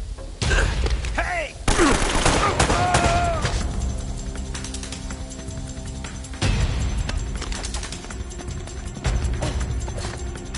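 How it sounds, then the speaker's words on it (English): Gunfire crackles through a firefight in Uncharted: Drake's Fortune Remastered, with sharp shots and bursts over a rumbling background, while voices shout during the opening seconds. "They're shooting at you too,"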